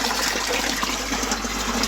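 Water drains steadily through an aquaponics siphon for an upper grow bed, a continuous rushing, gurgling flow that stays loud and even throughout with no talking.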